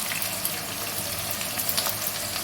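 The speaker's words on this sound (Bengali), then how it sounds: "তেলটা গরম হয়ে গেছে, বেরেস্তা ভালোর জন্য পেঁয়াজটা দিয়ে দিলাম।" Chopped onions hitting hot oil in a pan for biryani birista, a steady broad sizzle and crackle with no talking.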